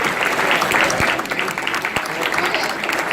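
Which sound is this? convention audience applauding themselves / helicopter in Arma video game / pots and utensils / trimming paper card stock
convention audience applauding themselves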